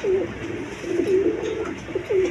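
A pair of boot-footed pigeons coo in low, throaty bursts close by, several rolling calls in quick succession over faint background hiss.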